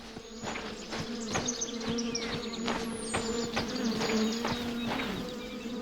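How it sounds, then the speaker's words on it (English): A swarm of bees drones in a tree, a close, steady buzzing hum with individual insects whining past at changing pitches. "I hear the bees"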